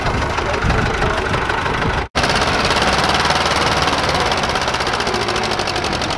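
An HMT 2511 tractor engine chugs steadily with a loud rhythmic knocking rumble while pulling a PTO trolley fully loaded with sugarcane, briefly cutting out for an instant before running on strongly.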